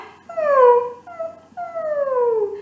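A voice imitates a dog whine, producing two drawn-out, falling nasal whimpers with a short break between them. Each is loud, close and clear, with no other sound around it.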